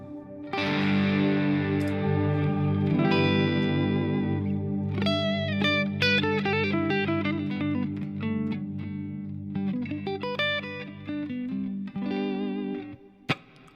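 Electric guitar through a Soldano amp rig with a lush wash effect, heavily modulated and reverberant chords and melodic notes ringing and overlapping for over ten seconds before fading, no talk.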